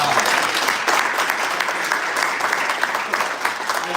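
Sustained, loud applause from a town hall audience at a Polk Street closure meeting, dense and even throughout without a break.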